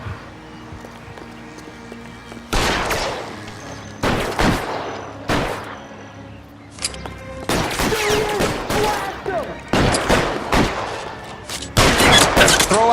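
A gunfight in L.A. Noire set in 1940s Los Angeles: loud, close volleys of pistol and rifle shots in irregular bursts, with brief gaps between exchanges and some voices shouting amid the shooting.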